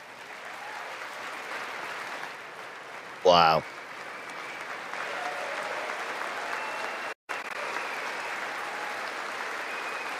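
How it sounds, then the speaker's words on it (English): Steady applause fills the whole stretch as a broad, even wash of clapping. A single voice briefly exclaims partway through. "do give a round of applause for that guy"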